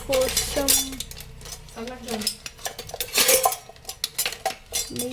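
Homemade ghee being strained through a filter, with metal utensils clinking and scraping against a vessel in quick, busy bursts, close up, while a voice talks over it.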